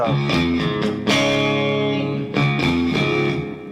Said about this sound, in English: I just have too much reverb on the amp.